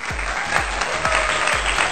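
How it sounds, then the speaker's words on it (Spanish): A small group claps and cheers for a guest named Tirso in Santiago, steady applause with periodic low thumps running throughout the short stretch. "¡Aplauso para él!"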